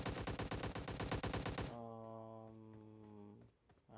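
Rapid automatic gunfire from an enemy in the mobile battle-royale game PUBG Mobile, a dense loud burst of shots for about a second and a half that cuts off into a lingering tonal hum.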